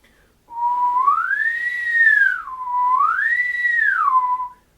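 A clear solo whistle, close and fairly loud, demonstrated as a model for trombone playing: two smooth phrases that glide up to a higher pitch and back down, with no talking.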